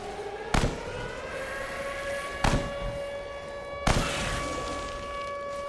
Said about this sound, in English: you will hear alarm sirens going off during the whole thing.